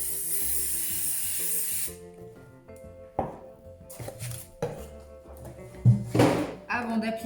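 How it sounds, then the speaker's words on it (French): Can of spray adhesive spraying onto a piece of cardboard, heard as one close, steady hiss lasting about two seconds. It is followed by thuds and handling noises, with talk at points. "Pour la colle en bombe, je vous conseille un carton. Et on pulvérise"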